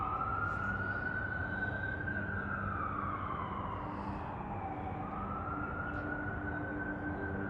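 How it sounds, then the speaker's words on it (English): An ambulance siren on a New York City street wails in a slow rising and falling sweep, steady and moderately distant over the constant rumble of city traffic. "No, that's an ambulance."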